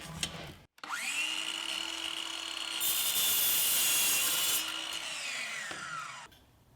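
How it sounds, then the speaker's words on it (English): A power tool whines up to speed and makes a straight cut through a Schluter A100 tile edge profile, holding a steady high-pitched cutting tone for several seconds before winding down. No voices are heard. "the first thing I'm going to cut is this A100 profile. These cut pretty easy, and I'm just going to do a straight cut"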